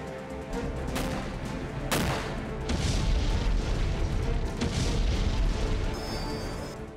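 War report footage from Ukraine carries a string of heavy booms and sharp blasts over a dense rumbling background, several strong bursts spaced a second or two apart, loud and reverberant.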